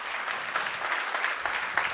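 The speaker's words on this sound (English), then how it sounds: "Let's give them all a round of applause." Audience at a Tableau keynote applauding, a steady wash of clapping from a large hall, moderately distant and unbroken for a couple of seconds.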